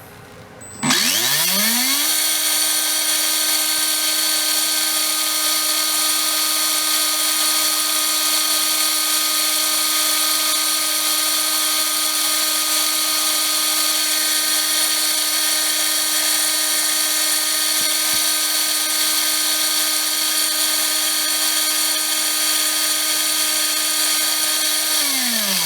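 A Trinity Double Down 17.5 brushless RC motor fitted with a 30-tooth gear spins up and holds a steady, loud high-pitched whine for the whole stretch, running near and alone before winding down at the end.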